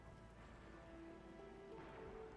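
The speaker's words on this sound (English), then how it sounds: "It's raining harder. I can't hear anything except for the rain." Steady rain falling in the video game Arknights: Endfield, a constant soft hiss with faint tonal game sounds underneath, no talking.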